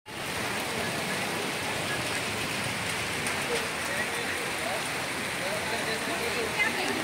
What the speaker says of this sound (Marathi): खूपच जोरात पाऊस आला बिन बादल बरसात आलेली आहे